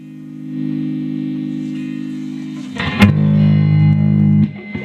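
A cranked hot rod guitar amplifier run through a volume pot attenuator box rings out with sustained distorted tones, changing to a new, louder chord with a sharp attack partway through, then cutting off near the end.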